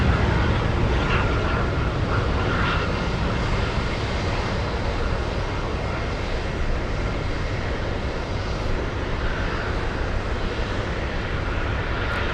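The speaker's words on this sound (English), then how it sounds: "JetBlue 620 flying in from San Diego." A JetBlue airliner arrives at Boston Logan International Airport with a broad, steady engine roar. The sound holds at a constant moderate level for the whole stretch with no talk.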